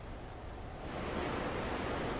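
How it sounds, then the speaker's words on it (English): The raging, flash-flooded Chattahoochee River roars as a steady broadband rush of churning water, dense and continuous, growing slightly louder partway through, with no voices. "I'm on the banks of the Chattahoochee River, which is raging right now"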